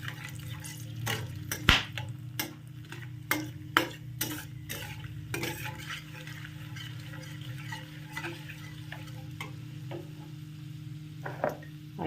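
Whole spices, bay leaves, cardamom, cinnamon and a clove, frying in oil in a pan, with a steady sizzle under repeated sharp crackles and pops spread across the whole stretch.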